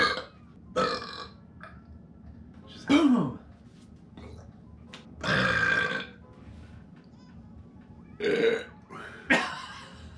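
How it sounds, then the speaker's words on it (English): Several loud, croaky burps from a burping contest rematch, spaced out over the stretch with quiet gaps between, some long and drawn out, a couple short and sharp. "I caught it and burped it back"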